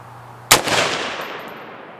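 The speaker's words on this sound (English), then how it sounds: "Let's do some shooting." A single sharp gunshot from a Delta Team Tactical rifle fired at targets, close and loud, with a rolling echo trailing off over the next second and a half.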